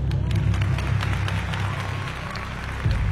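An audience bursts into applause in a staged horror audio story set before a crowd watching a stage, a dense wash of many hands clapping at steady loudness, swelling briefly again at the end.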